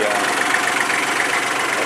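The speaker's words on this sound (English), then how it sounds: "3-cylinder, 35 horsepower diesel engine" Steady, even idle of a Kubota tractor's 3-cylinder, 35 horsepower diesel engine, heard up close as a constant mid-pitched rumble with no change in speed.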